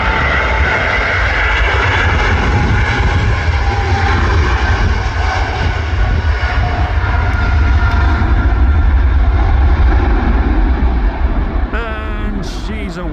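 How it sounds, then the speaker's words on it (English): An Emirates Boeing 777 twin-engine airliner takes off from Manchester Airport, a loud, sustained roar of jet engines that dominates throughout before easing slightly at the end. "a 777 Emirates ER on its way back to Dubai"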